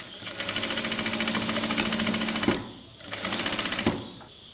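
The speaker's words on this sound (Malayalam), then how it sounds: "അപ്പോൾ ഇവിടെ നിന്നും ഇങ്ങനെ നമുക്ക് താഴേക്ക് തയ്ക്കാം" A sewing machine runs close up while stitching a stand collar on a kurti. It makes a fast, even rattling hum in two bursts, with a short pause between them.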